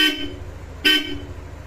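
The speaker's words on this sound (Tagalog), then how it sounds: "Bosch Europa, napakatibay na busina." Two short, loud honks from a Bosch Europa horn on a Yamaha NMAX motorcycle sound close by, with a pause between them over a low engine idle.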